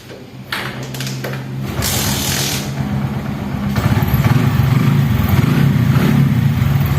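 A stalled motorcycle being kick-started by its crank lever with the ignition on, a few clattering kicks and mechanical thumps before the engine catches and settles into a loud, steady running drone.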